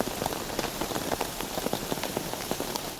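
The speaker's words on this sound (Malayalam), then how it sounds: "വലിയ മഴ." Heavy rain pours down on a forest campsite, a dense, steady hiss of drops pattering on surfaces and leaves, with sharp individual drips standing out close by; no one speaks.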